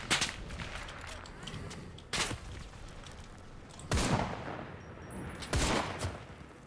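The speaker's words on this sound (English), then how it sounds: "Someone's here and shooting me." Gunfire in the video game Enlisted: a few loud, sharp shots and short bursts spaced a second or two apart, with a player talking between them.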